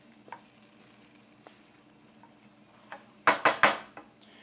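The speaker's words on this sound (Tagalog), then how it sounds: "Nagluluto ako ng adobo" Adobo cooking in a pan: a quiet background sizzle with a few light taps, then three sharp scraping stirs of a utensil against the pan in quick succession.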